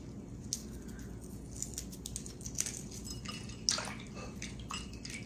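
Boiled eggs being peeled in a bowl of water while making deviled eggs: faint drips and small splashes, soft and close, with a few brighter water taps standing out over a quiet kitchen background.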